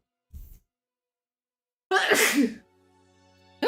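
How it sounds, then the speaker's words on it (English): A short intake of breath, a pause, then one loud, explosive sneeze up close, trailing into faint background hum. "Big ass sneeze."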